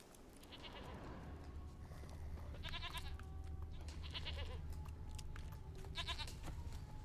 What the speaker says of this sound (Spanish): Escucho una cabra, una oveja.